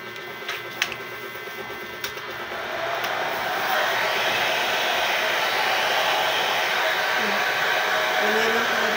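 A hair dryer blows on hair during an at-home rebonding treatment. A few sharp clicks come first, then a loud, steady whooshing drone runs close and continuous to the end.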